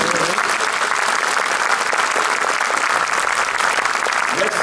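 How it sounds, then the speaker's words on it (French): A concert audience applauds the nine orchestra musicians of a Capella: dense, loud, continuous clapping across the whole hall, with no break and no speech. "On peut les applaudir."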